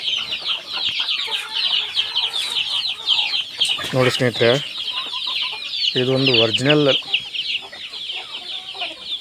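A flock of native naati country chickens clucks and chirps continuously nearby, while someone speaks in two short bursts over them.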